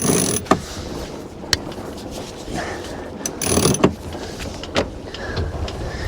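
A faulty boat winch with a failing ratchet clicks and whirs up close, with sharp pawl clicks scattered over a steady mechanical grinding outdoors on the water.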